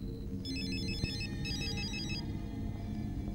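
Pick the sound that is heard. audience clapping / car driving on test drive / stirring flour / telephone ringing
telephone ringing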